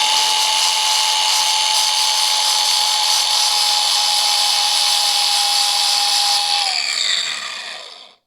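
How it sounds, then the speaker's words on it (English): An angle grinder files down the set screw spot on a pump shaft during a Toro or Exmark zero-turn hydro pump replacement. A loud, steady abrasive whine holds for about seven seconds, then winds down as the disc spins to a stop. "I might just take a grinder to it, just so your new one goes on nice and smooth"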